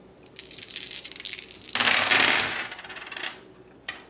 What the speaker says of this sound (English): so now it's time to roll again.